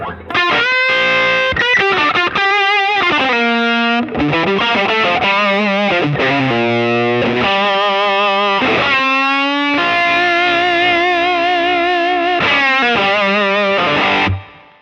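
Heavily overdriven electric guitar through a stacked OCD and Klon-style overdrive, playing a sustained lead line, notes bending and holding with thick, saturated distortion and brief gaps between phrases.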